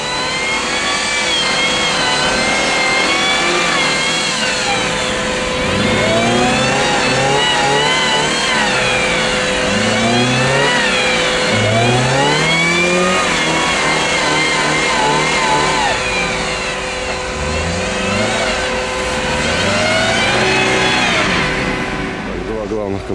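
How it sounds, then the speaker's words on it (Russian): A GAZ Volga car drives off-road along a rut, its engine revving and surging repeatedly, loud and close, while someone talks over it throughout. "Так, и Волга по колее шишиги идет."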